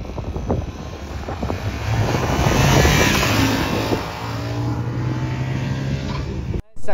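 Motorcycle engine running steadily during a wheelie, a loud continuous drone that swells in the middle and holds, with faint voices underneath.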